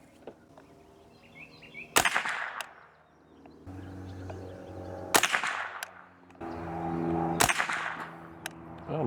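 Three sharp, loud cracks from a Savage Model 64 Precision .22LR rifle firing supersonic ammunition, evenly spaced a few seconds apart, each ending in a short ringing tail over quiet outdoor background.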